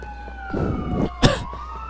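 An ambulance siren in the LCPDFR police mod for a video game, sweeping through a rising and falling wail over steady engine hum, with a short sharp burst partway through.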